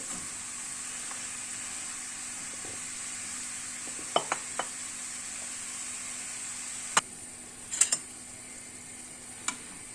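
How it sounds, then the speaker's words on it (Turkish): Minced meat, onions and peppers sizzle steadily in a pan with a soft, continuous hiss, broken by a few sharp clicks of a utensil stirring. "kıymalarımız, soğanlarımız ve biberlerimiz güzel güzel kavrulmaya devam ediyor"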